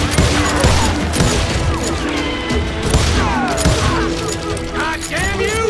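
Chaotic, loud gunfire fills a shootout in the Western video game Call of Juarez: Gunslinger, with dense repeated shots and crashing impacts running throughout, mixed with game effects and shouting.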